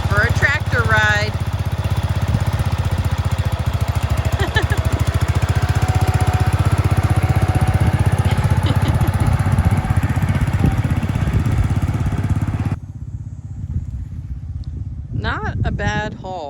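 A tractor engine drones steadily and loudly during a ride on a potato farm, with a dense low rumble that drops off sharply near the end, while people talk over it.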